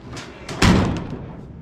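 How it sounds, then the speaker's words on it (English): A car door on a 1955 Chevy Gasser shuts with one solid, close thud, lacking a rubber stopper, followed by a short fading rattle in a quiet space. "and then when we shut the door"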